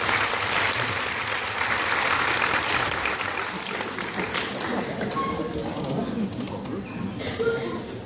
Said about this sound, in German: Ein Applaus für die Bettina!